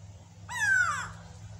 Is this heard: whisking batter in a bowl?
no